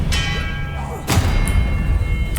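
The Expelliarmus spell is cast in Hogwarts Legacy: a sharp magical crack with a bell-like ringing shimmer, followed by a heavy thud and a few fainter impacts over a low rumbling backdrop.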